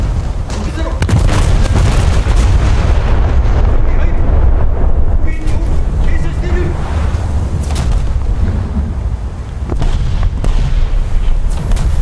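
Heavy naval guns of the Japanese battleship Mutsu fire in the War Thunder game, loud booming blasts and rumbling explosions overlapping in a dense, continuous barrage.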